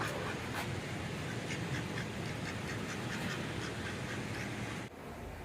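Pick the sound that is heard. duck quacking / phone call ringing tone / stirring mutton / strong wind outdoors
duck quacking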